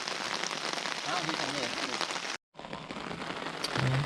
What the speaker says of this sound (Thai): พอฝนตกได้ระดับขนาดนี้ครับผม